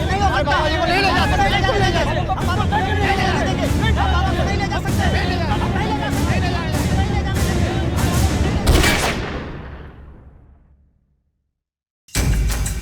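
Gunfire rings out over a loud, agitated crowd as a man is led away amid shouting, with sharp broadband bursts standing out against dense babble, then a brief silence before the noise resumes.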